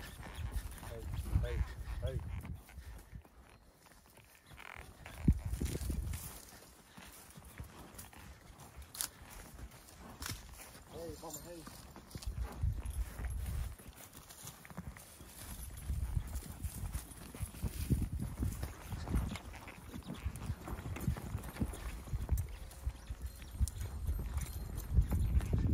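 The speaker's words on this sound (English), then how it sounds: "Get her down where she's supposed to be, down the country over here to the trailer." Horse hooves clip-clop steadily on the ground while cattle are being moved toward a trailer outdoors, with someone talking and calling out over the rhythmic footfalls.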